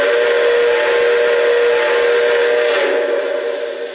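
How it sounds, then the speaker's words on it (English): A loud, steady steam-style whistle from a Lionel Commodore Vanderbilt toy train sounds continuously for several seconds before fading out. "First up, here is the whistle."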